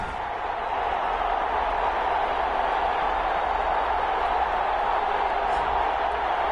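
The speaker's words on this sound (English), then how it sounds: "This crowd, Detroit Lions." A large stadium crowd at a Detroit Lions game in Madden NFL roars as a steady, dense wash of noise, with a commentator's voice running underneath.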